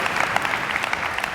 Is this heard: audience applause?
yes